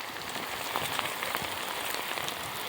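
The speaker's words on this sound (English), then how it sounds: "It's also raining on the grass here." Rain falls steadily on grass beside a driveway, a soft continuous patter of drops with nearby splashes, heard alone at moderate loudness.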